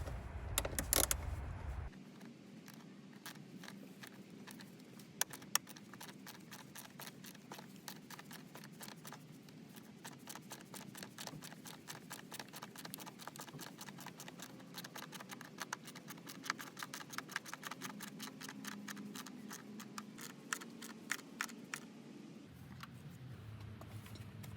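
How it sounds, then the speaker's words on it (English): A ratchet tightening the 12mm battery hold-down bolt on a 2008 Nissan Armada SE, giving a long run of rapid, quiet clicks close by, with a few louder knocks near the start. "start tightening the 12mm bolt to hold the battery"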